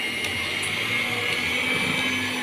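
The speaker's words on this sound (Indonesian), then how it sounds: "Terakhir kita mixer lagi dengan kecepatan rendah" An electric mixer whirs at low speed through cake batter, a steady, continuous motor hum with a bright whine, close and loud throughout.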